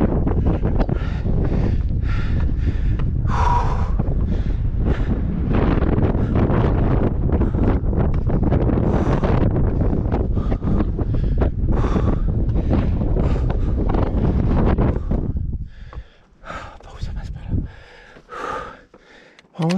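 Strong wind buffeting a microphone on a rocky mountain hiking trail in Corsica, a loud continuous roar with gusty surges that drops away abruptly near the end into quieter, fluttering gusts.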